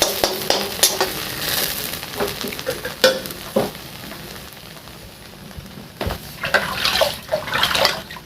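Aagmuthua greens fry and sizzle in a pan, with irregular stirring scrapes and clatters breaking through a steady hiss, close and moderately loud with no talking.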